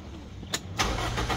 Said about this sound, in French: Donc démarrez la voiture.